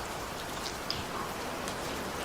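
Steady rain falls throughout, a soft continuous patter with no voices, even and moderately quiet from start to finish.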